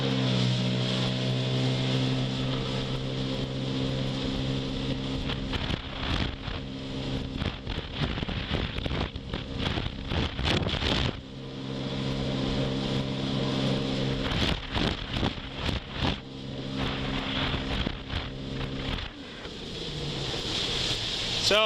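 A stock 2018 Sea-Doo Spark Trixx personal watercraft runs flat out at top speed, its engine droning steadily under heavy wind rush and slapping water, with brief dips as it skips over waves.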